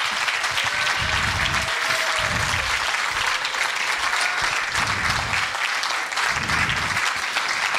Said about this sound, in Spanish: Un fuerte aplauso para el señor Raúl Arancibia.